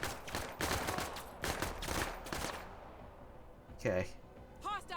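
Several quick pistol shots fired in a rapid burst during an expert-difficulty defense mission in the tactical game Menace, followed by a lone sharper report and faint in-game chatter, with a voice talking over the action.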